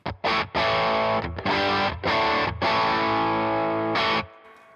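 Overdriven electric guitar through a Stormcaller fuzz pedal and an amp with preamp gain high and mids boosted, gritty and crunchy, playing sustained chords in several bursts with brief gaps, loud and close, then ringing out.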